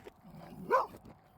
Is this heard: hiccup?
no